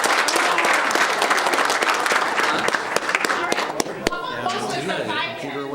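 Applause breaks out at a county board meeting, a dense burst of hand clapping from the room that thins to scattered claps before voices take over near the end.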